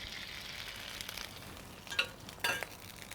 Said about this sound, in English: We want them to cook and get a really nice sear pretty quickly on the outside